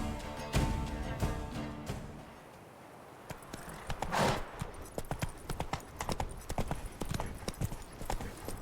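Hooves of Roach, the horse in the video game Witcher 3, clip-clop in a steady galloping rhythm, fairly close and clear, with a brief swell of other game sound in the middle.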